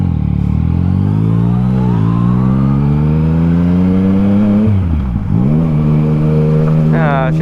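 A Yamaha MT-09 with an Akrapovic exhaust revs loudly and close up. The engine pitch rises and falls in smooth sweeps and drops sharply once, as if shifting, before climbing again.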